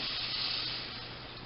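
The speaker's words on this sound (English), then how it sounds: "Now I'm ready to add my milk" Milk poured into a hot pan of browned sausage, peppers, onions and garlic sizzles with a loud, steady hiss that eases slightly as it settles, with no talk.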